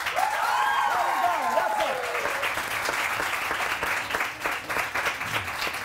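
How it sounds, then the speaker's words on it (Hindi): Studio audience clapping on a Pakistani morning television show, a sustained even patter of many hands with voices and cheering calls rising over the start. "अब आप लोग तालियां बजाएं"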